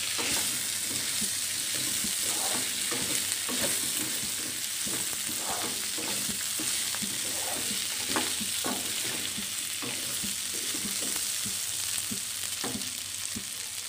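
Chicken pieces frying with sesame seeds in a pan, a steady close sizzle broken by repeated scrapes and clacks of stirring throughout, with no talking.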